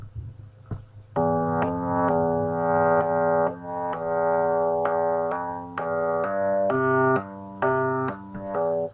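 A sustained synth bass line programmed in FL Studio moves through held notes with a buzzy, harmonic tone, steady and fairly loud, with no talking.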